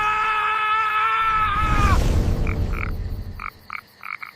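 A cartoon frog croaks in an animated fortune-cat episode: after a wavering cry and a whooshing transformation effect, short croaks come in an uneven run of about six, close and fairly loud.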